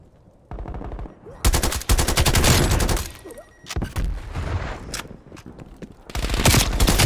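Loud rapid bursts of automatic gunfire in Call of Duty: Black Ops Cold War multiplayer, several sustained volleys separated by short pauses, close and dominant.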